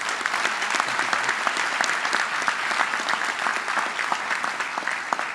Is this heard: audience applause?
yes